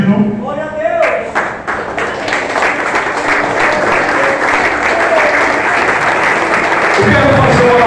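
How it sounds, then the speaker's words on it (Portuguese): A church congregation applauds the Lord with loud, dense, sustained clapping, starting in scattered sharp claps and swelling into a steady roar of hands for several seconds. "Vamos aplaudir o Senhor porque Ele é digno"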